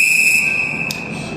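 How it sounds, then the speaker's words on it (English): A cooker whistles while an Indian dish cooks: one steady, shrill tone that holds through the whole brief moment over a low background hiss. "we hear the whistle"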